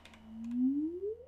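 A smooth synthesized tone glides slowly upward in pitch like a resonant filter sweep, with a few faint clicks at the start.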